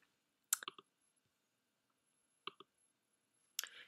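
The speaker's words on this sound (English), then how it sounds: "I right-click on category ID to set primary key." Computer mouse clicks at a desk while setting up a database table, three small bursts of crisp, close clicking separated by quiet pauses.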